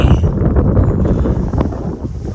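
Strong wind buffets the microphone during a cable car ride in Armenia, a continuous rough rumbling roar that fills the whole short stretch with no talking.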